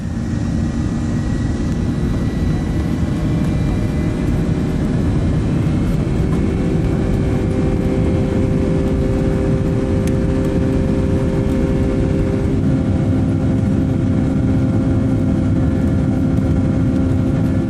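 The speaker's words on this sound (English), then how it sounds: "The takeoff wasn't very noisy because it has a modern Perm PS90 engine." Steady, loud roar of an Ilyushin Il-96 airliner's Perm PS-90 jet engines with a low rumbling hum that holds constant throughout, climbing during a shallow takeoff.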